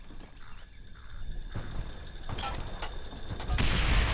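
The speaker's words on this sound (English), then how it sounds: "Our artillery will shake him up." An artillery strike in Call of Duty: World at War, distant booms and rumbling impacts building into a louder, heavier blast near the end, with faint mechanical clatter in between.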